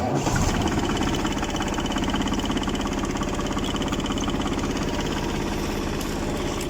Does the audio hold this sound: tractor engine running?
yes